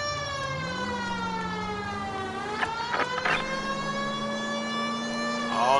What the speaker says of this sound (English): You heard my siren 18 miles back.